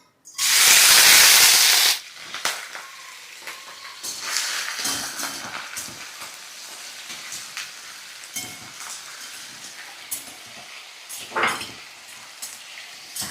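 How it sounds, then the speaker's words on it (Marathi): Potatoes dropped into hot oil for khichdi burst into a loud, close hiss for about two seconds, then settle into a softer, steady sizzle with occasional crackles and a few utensil clicks. "तेल गरम झालंय, ह्यात बटाटे टाकून घेऊ."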